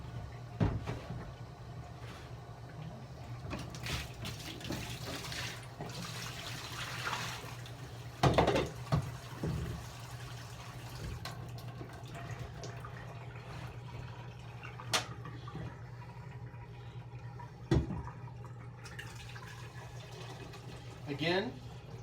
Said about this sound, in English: I'm then going to rinse again, rinse the cylinder, rinse the funnel